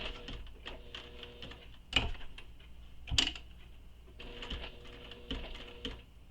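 A sewing machine runs in several short bursts as it stitches a crossbody bag panel, a quiet rapid mechanical whirr with a couple of sharp clicks between runs.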